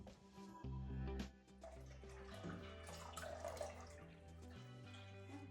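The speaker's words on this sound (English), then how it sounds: "we're just gonna pour it in there and then start stirring again" About two cups of chicken broth poured into a pot for beer cheese soup, a steady liquid splash and trickle lasting several seconds, fairly close.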